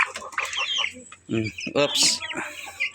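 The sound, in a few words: Rhode Island Red chickens clucking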